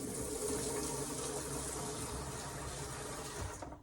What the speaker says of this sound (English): basically all we've got to do is splash some water